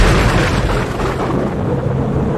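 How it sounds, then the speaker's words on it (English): A deep, loud explosion used as a sound effect in a story rumbles with a heavy low boom and a crackling burst, then decays slowly into a sustained roar over a couple of seconds. "There was an explosion,"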